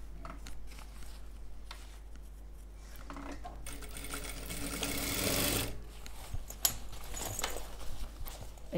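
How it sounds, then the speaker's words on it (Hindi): A sewing machine stitches a zipper onto a folding travel bag. Its rapid whir swells for about two seconds midway, set among quieter handling noises and a single sharp tap near the end. "इसके बाद हम ये जिप हमने यहाँ तक छोड़ दी थी, तो ऐसे हम आगे सिलाई करेंगे।"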